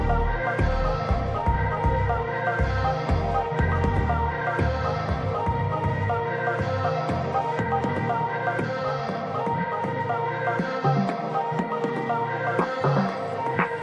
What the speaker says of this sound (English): The double spade machine operates smoothly to remove dry tree roots.